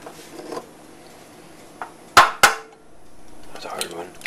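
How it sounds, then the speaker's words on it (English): Eggs cracked one at a time into a pan: two sharp, close taps in quick succession, with fainter clicks and kitchen clatter around them. "just take your eggs one at a time and just crack them into the pan"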